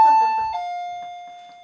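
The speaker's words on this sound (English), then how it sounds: "Wait a minute. Bell." A doorbell chimes once near the mic, its clear electronic tone ringing out and slowly decaying, with a brief low thump partway through and no talking.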